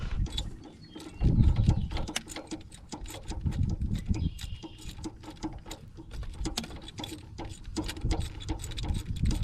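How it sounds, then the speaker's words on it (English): Ratchet tightening a fuel injector back down on a 7.3 Powerstroke diesel engine, a rapid run of small metallic clicks at close range over a low background hum, fairly faint, with no talk. "Get my injector tightened back down."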